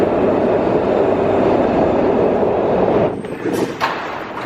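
A PATCO train arrives at 8th Street station in Philadelphia, a loud sustained rumble and roar of rail cars in an underground station, easing slightly as brief squeals and clatter sound near the end.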